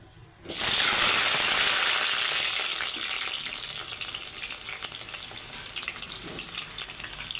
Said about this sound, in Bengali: কড়াইয়ে তেল গরম হয়ে গেছে, এখন আমি আলুগুলো দিয়ে দিচ্ছি।